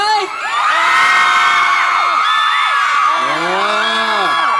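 A loud crowd of fans at the Money Expo cheers and shouts continuously for a performer, with high excited whoops and children's voices rising and falling throughout.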